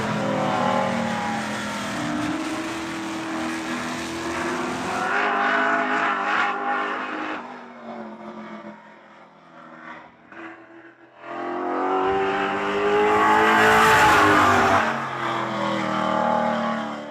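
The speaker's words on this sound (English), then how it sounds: "This is the 47 car of Trevor Edelman." A WESCAR race car on time trials at Hythe Motor Speedway roars past, engine swelling, fading to a distant drone, then surging loud again as it comes around, with no talk over it.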